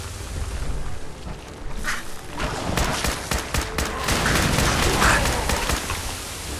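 Rifle gunfire in Fallout 4, fired at long range near a bottling plant exterior: a rapid run of sharp shots bursting through steady wind-like background noise, loud and close, with no talking.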